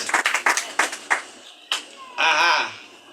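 A church congregation claps in a quick burst of sharp, close hand claps that soon fades, followed by a brief loud voice.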